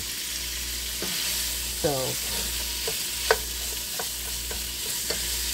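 Bacon frying in a pot filled to the brim, meant for collard greens, giving a steady sizzle under a low hum, with a few spoon knocks and scrapes and a brief squeak partway through.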